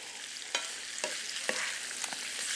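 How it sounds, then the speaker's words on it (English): Beef sausage and vegetable bake mixture being stirred in a bowl, with a handful of distinct scraping, clacking strokes spaced about half a second apart over a steady hiss. "All right, so just mix that up good."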